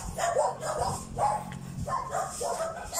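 Several dogs bark repeatedly at a moderate distance, their yaps overlapping over steady outdoor background noise.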